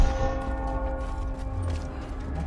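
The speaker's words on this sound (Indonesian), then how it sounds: "Oke, langsung bunyi lonceng dong." A bell rings in the video game Rise of the Tomb Raider with a sustained metallic hum and a long resonant decay, heard alone over soft game ambience.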